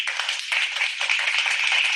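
Round of applause for a speaker, dense continuous hand clapping from a group, close and fairly loud, steady for the whole two seconds.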